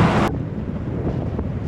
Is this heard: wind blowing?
yes